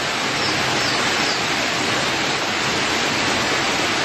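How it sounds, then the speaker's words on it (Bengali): Heavy monsoon rain pours onto the decorated tin roof of a resort, a dense, steady roaring hiss that stays loud and unbroken throughout with no voices. "মুষলধারে বৃষ্টি হচ্ছে।"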